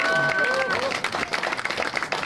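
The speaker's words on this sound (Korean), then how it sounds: "이분들에게 좀 박수 큰 박수 부탁드리겠습니다" A crowd applauds at a political party event where regional organizers are announced. Dense clapping with some cheering overlaps a voice at the start, then settles into a rough, pulsing round of hands.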